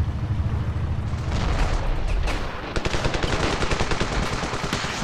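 Rapid bursts of gunfire and booming explosions from the Ravenfield video game run continuously, the shots loud and close in a fast staccato rhythm, with no talking.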